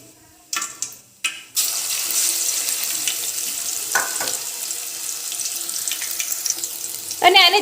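Curry leaves, crushed garlic, chili and ginger hit hot oil with a few sharp crackling bursts, settling into a steady close sizzling hiss, with a scrape of stirring and a louder flare of crackle at the end.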